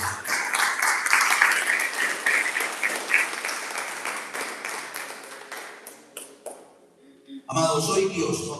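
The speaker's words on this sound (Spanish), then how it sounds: "¿Cuántos dan un aplauso a Dios por eso?" Church congregation breaks into loud, sustained applause and scattered cheers during a Spanish-language Easter resurrection sermon, fading around the seventh second before a fresh burst of voices and clapping returns.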